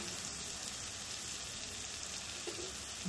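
Spices including turmeric, red chili powder and garam masala sauté in a pan, giving a steady, close, bright sizzle with faint stirring and no talk.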